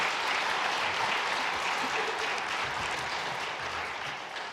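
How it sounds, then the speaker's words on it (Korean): A church congregation gives sustained, dense applause for visiting missionaries, a full-room clapping that holds steady and then gradually fades toward the end. "한번 일어서 주시면 박수로 격려하겠습니다"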